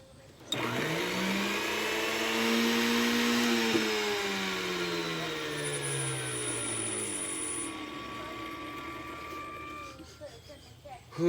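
A commercial vacuum cleaner runs loudly and close by, its motor pitch sliding and wavering as it strains during demolition, with a high whine joining partway through before it sputters near the end.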